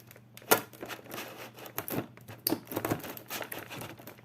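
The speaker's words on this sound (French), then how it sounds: "On enlève le scotch." Crinkly tearing and crackling of tape being pulled off the plastic packaging of a figurine, in several short bursts, close by with no talking.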